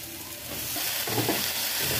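Spice paste of chili powder and green chili paste stirred and fried in a pan, a continuous sizzle rising slightly with soft scraping movements.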